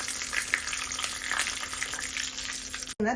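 Continuous crackling sizzle of mustard seeds, urad dal, curry leaves and a dried red chilli popping in hot oil for fish curry, close and busy, ending with a brief cut and a louder burst.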